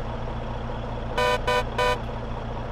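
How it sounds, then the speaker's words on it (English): Semi-truck horn in Farming Simulator 22 gives three short, bright honks in quick succession over a low, steady engine idle. "We got a bright and cheerful horn."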